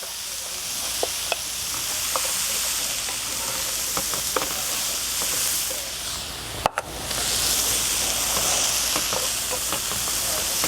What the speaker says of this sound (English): You definitely want to extract that flavor from the onion, so you want it to cook down.